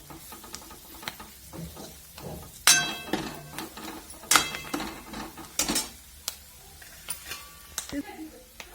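Curry leaves and coriander dropped into hot oil with spices, giving a close, uneven sizzle broken by sharp spatters and a few clinks of a spoon against the pan, with soft speech in places.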